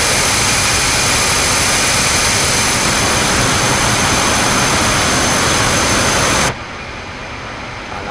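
F-5 Tiger fighter jet engines running, a loud, steady, close roar that cuts off abruptly near the end and leaves a lower residual hum.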